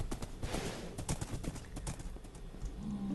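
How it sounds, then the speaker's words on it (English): Horse hooves clip-clop in Minecraft, a steady run of quick, fairly close hoof knocks over a busy game soundscape, with a short tonal hum near the end. "So I'm going to park my horse over here"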